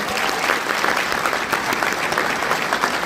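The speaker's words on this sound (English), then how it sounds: "can I get a big round of applause for the Bloomington Police Department's Honor Guard?" A crowd gives steady, sustained applause for a police department honor guard at a torch run kickoff event, even clapping throughout with no break.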